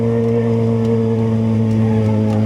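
Yamaha XJ6 motorcycle with a loud exhaust, a steady deep idling drone with strong low harmonic tones, held evenly close to the bike with no speech.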